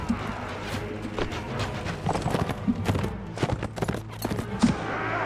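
Horse hooves clip-clopping in the video game Warsword, a quick run of irregular hoof beats with thuds, moderately close, over a low background of game ambience.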